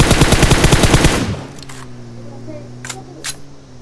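Gunfire in the PUBG Mobile video game: a loud, rapid automatic burst that stops abruptly after about a second. Two sharp single shots follow, while a voice talks quietly in the background.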